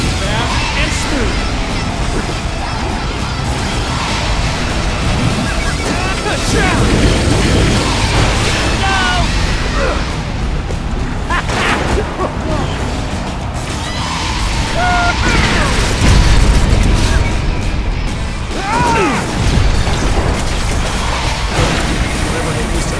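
Missile launcher explosions in Cars 2: The Video Game, a steady roar of booms, crashes and blasts over continuous game noise, swelling louder around the middle, with voices talking in the mix.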